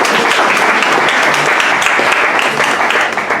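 Loud, dense applause with cheering from a congregation at a church gathering of Bible institute students, continuous clapping filling the space throughout with no pause.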